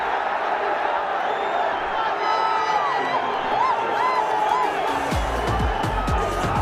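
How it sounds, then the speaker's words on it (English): A cricket stadium crowd at a BPL match in Dhaka cheers a six, a broad sustained roar with whistles and whoops, moderately loud, ending with sharp bangs and clapping. "That gets the crowd going."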